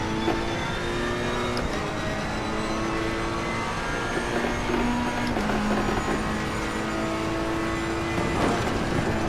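Ferrari 488 GT3 race car in Assetto Corsa Competizione held near full throttle, a steady loud engine drone with shifting harmonic pitch as revs rise and dip, continuous throughout with no talk.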